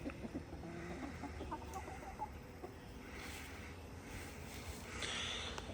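Backyard chickens cluck softly and intermittently at a distance, scattered short calls over a quiet outdoor background.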